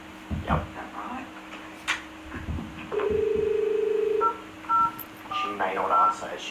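Touch-tone telephone keypad beeps sound while someone dials a number on a call to a person named Carol, a long steady tone followed by several short separate key beeps, with people talking and footsteps around them.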